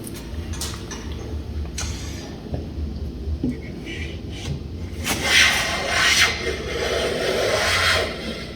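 Veritas low angle smoothing plane taking shavings off a wooden board, soft rasping strokes repeated several times and growing louder toward the end, close up with no talk.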